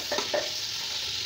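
Onions sizzle steadily in hot ghee, a dense, even hiss with a couple of brief stirring scrapes near the start, close and continuous.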